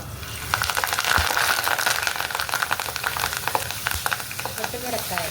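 Curry leaves and mustard seeds frying in hot oil for a tomato pickle, a steady loud sizzle with popping and crackling spatter throughout, close up, with faint voices.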